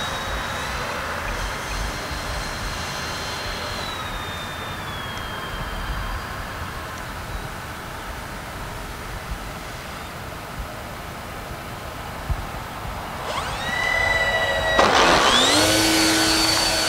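An E-flite Twin Timber twin-engine RC airplane flying overhead with flaps down, its motors a steady whine at moderate distance, shifting pitch as it passes and growing louder and nearer toward the end.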